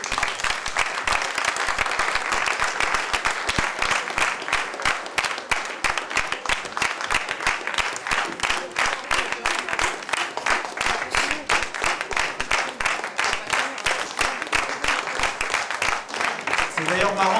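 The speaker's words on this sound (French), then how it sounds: "je voudrais qu'on les applaudisse très très fort" Audience at an award ceremony applauding volunteers, dense sustained clapping filling the hall from start to finish, loud and even with faint crowd murmur mixed in.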